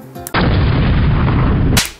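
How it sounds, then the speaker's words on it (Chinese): A toy cannon on a large LEGO shark pirate ship fires as its button is pressed, producing one loud, close, dense rushing burst that lasts about a second and a half before cutting off sharply. "甲板两侧均有360度可转动的大炮，按下按钮就能发动大炮，"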